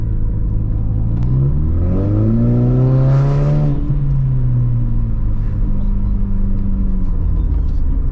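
A 250 bhp VW Polo GTI hot hatch exhaust rumbles loudly and close, revving up in a rising, slightly raspy roar before settling back to a deep idle.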